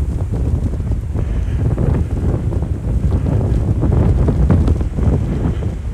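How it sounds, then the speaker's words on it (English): Strong wind buffets the microphone outdoors beside Wascana Creek in Regina on a spring walk, a loud continuous low rumble that surges and swells without pause and with no talk over it. "No, there's the wind."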